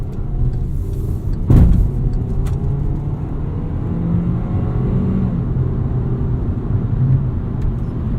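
Volkswagen Jetta 1.4T SE, 2016, with automatic transmission, driving smoothly; a low steady road and engine rumble from inside the cabin, with a brief thump early on and gentle swells as it moves along.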